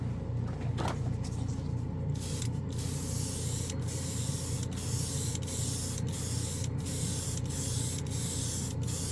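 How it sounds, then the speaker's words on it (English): A Gaahleri Barbatos Rex Swallowtail airbrush sprays paint in a steady, close hiss, broken by brief regular pauses, over a low mechanical rumble. "it atomizes this paint really, really well"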